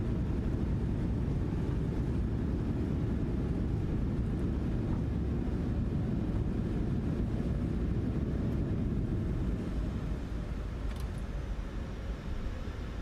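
Broad, steady roar of a Boeing 737-800's thrust reversers on the landing rollout in the PMDG flight simulator, a loud continuous rumble that holds level for the whole stretch and eases only slightly near the end, with no talk over it.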